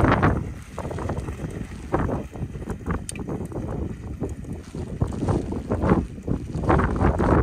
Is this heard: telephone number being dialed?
no